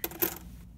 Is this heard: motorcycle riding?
no